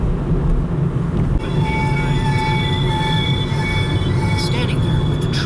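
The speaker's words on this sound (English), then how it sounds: "Standing there with the train rumbling past" A freight train rumbling past close by, loud and continuous, with squealing wheels ringing out in sustained high tones over the heavy rolling roar.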